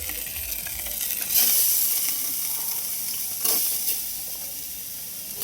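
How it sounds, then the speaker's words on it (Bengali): Washed aromatic rice and dal tipped into a hot pan of oil for a village-style Bengali dish, a loud bright sizzle that surges twice as the grains land, then settles into a steady hiss. "চাল ডাল একসঙ্গে দিয়ে দিচ্ছি।"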